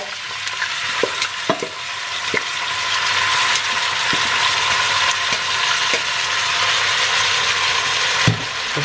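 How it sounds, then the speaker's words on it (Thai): Wide rice noodles sizzle continuously in a hot wok while a spatula scrapes and clacks against the pan in irregular strokes, close and fairly loud. "ผัดไปให้เส้นนุ่มอ่ะจ้ะทุกคน"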